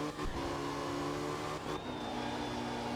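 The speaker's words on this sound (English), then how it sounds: "changing gears into 4th" Rally car engine in the art of rally video game after shifting into fourth gear: a steady, droning mid-range engine note with a brief dip at the shift, then rising again, alone without talk.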